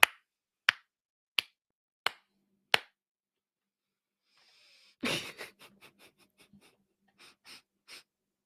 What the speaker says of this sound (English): Slow clapping